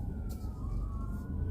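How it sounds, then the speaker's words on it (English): A distant emergency vehicle siren wails in a slow rising and falling tone, faint under a steady low rumble of outdoor background noise, with no one speaking. "Siren is running,"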